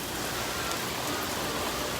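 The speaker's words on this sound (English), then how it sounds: "It is just raining." Heavy rain pours down in the Ozarks, a dense, steady, unbroken wash of sound filling the whole stretch with no voices.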